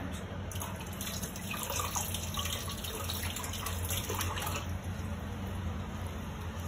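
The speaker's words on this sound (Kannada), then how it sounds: "ಸೊ ಒಂಚೂರು ನೀರು ಹಾಕ್ದು" A little water poured while making a cheese bread roll, a steady splashing trickle that runs close and fairly loud for several seconds with no voices over it.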